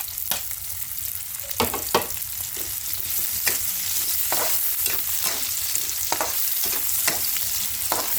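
Red onion sautéing in a hot pan with garlic and ginger for escabeche, a steady close sizzle with repeated scraping stirs of a spatula, no talking.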